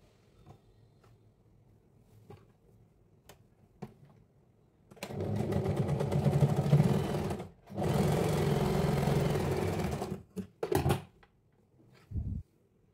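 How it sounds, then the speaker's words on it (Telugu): A sewing machine stitching a crop top runs in two sustained bursts of a few seconds each, separated by a short pause. Brief clicks and handling knocks come before and after the runs, and no one speaks. "ఇప్పుడు ఇటు సైడ్ కూడా ఇంకొక స్టిచ్ వేసుకుందాం."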